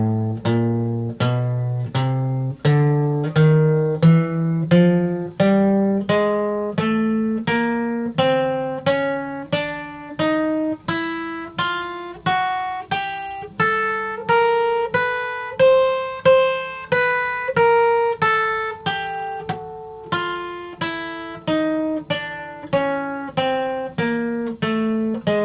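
Palm-muted electric guitar notes picked in steady alternate strokes, a long run of short, evenly spaced plucks climbing gradually in pitch, played alone and clearly.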